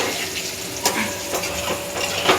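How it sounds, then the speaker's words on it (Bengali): Potatoes frying in oil in a kadai, a steady close sizzle with faint stirring clinks and utensil taps, no voices. "কড়াইতে তেল দিয়ে আলুগুলো একটু ভেজে নিচ্ছি"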